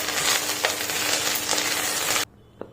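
Drumstick leaves fry in a pan while being stirred, giving a loud, continuous sizzle with a couple of scrapes, then it drops abruptly to near quiet with one last faint clink.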